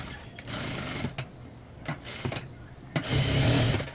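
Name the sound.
sewing machine stitching blouse fabric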